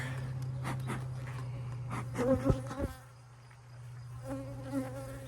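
Honeybees buzz around a queenless hive in a steady, close drone with shifting pitch as individual bees pass near, no voices.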